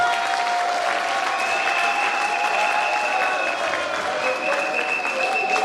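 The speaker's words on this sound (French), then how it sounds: "Est-ce qu'on peut les applaudir?" Wedding guests applaud the couple during the ceremony, a sustained even wash of many clapping hands at moderate volume, with a sustained whistle or tonal sound and murmuring voices running through it.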